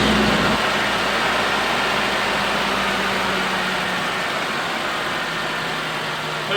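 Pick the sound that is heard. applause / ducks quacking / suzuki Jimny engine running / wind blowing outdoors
suzuki Jimny engine running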